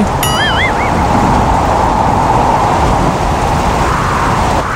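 Storm wind roars as a loud, dense, continuous wash with a rumbling thunder-like undertone, and a brief warbling whistle rises near the start of the sound effect.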